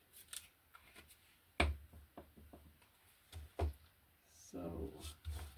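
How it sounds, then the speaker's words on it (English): Fancy scissors snip through printed paper journaling cards alongside a ruler, giving scattered soft cuts and clicks at close range, with a person talking in between. "I use some fancy scissors and my ruler, my usual ruler, to cut and rip this this digital printables out"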